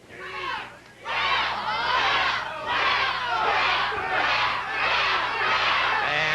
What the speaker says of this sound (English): And now the crowd picking up a chant